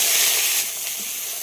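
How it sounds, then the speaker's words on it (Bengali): Cauliflower pieces frying in hot oil after potatoes, a steady bright sizzle and hiss that eases a little partway through, close and without talk. "ফুলকপিটা বেশ ভালো করে ভেজে নেব"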